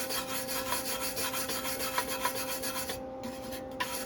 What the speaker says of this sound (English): Clean off that flux.